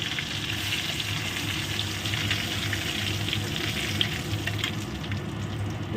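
Two bay leaves and whole cumin seeds crackle in hot oil, a continuous close sizzle with faint stirring and no voices.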